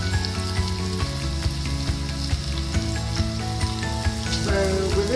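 Onion dropped into a pan with garlic and peppers for vegetarian chili, frying with a steady bright sizzle and occasional light stirring clicks, no voices over it.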